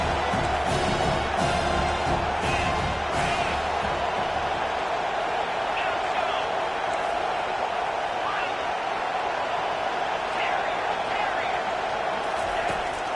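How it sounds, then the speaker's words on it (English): A football stadium crowd roars and cheers to push the defense, a dense sustained wall of noise with a commentator talking over it throughout. "The roar of the crowd trying to fuel this defense to keep them pinned in their own end."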